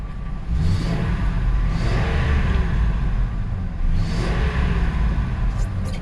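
A 2000 Ford F250 XL pickup with a 5.4 liter Triton V8 idles steadily up close, giving a loud, even low rumble with light mechanical whir and a faint rise in revs partway through.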